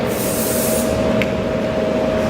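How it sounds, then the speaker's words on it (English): A short burst of hairspray hisses close by onto an Irish dance wig, then cuts off, leaving a steady low hum with one faint click. "just spray a bit of hairspray in it"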